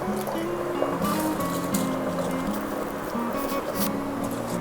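Rice is tipped into boiling broth for a country-chicken biryani, giving a continuous close-up bubbling and sloshing of liquid that stays even throughout, with no talk.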